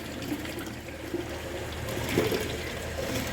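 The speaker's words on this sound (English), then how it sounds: "So we're just gonna fill them up with water the rest of the way" Water running steadily from a tap or hose into calf feeding bottles on a dairy farm, a continuous rushing fill with a slight rise in gurgle near the end.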